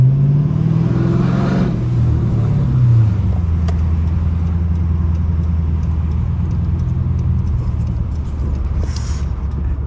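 A straight-piped Dodge Charger R/T rumbles loudly close by, one throaty rev climbing and dropping early before it settles into a deep, steady idle burble with a faint bright tick near the end.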